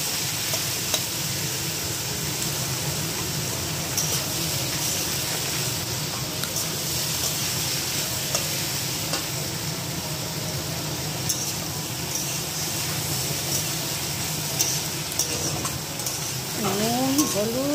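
Vegetables fry with garlic and onion in a pan, a steady sizzle running throughout with occasional stirring scrapes, fairly close; someone talks over it at times.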